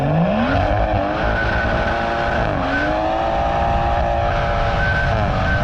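Stage 2 tuned BMW on budget tyres launching from standstill on a wet road, engine revving hard and rising in pitch through gear changes, loud and close from inside the car, with no talk.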